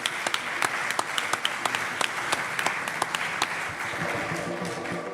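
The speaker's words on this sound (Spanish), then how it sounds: "Un aplauso, por favor." Audience applause at a talk on UFOs over Zamora, dense sustained clapping from a crowd with sharp individual claps standing out, continuing evenly throughout.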